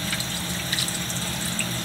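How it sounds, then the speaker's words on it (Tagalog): A little water pours steadily into a pan of cooking snakehead fish, a continuous close splashing rush without pauses. "Tapos nalagyan natin ng kunting tubig."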